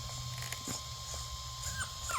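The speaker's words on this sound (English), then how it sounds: "Doggy's about to go crazy here" An excited dog whimpers and yips in short, high, rising whines, fairly faint, over a steady background hum while a remote-control truck is switched on nearby.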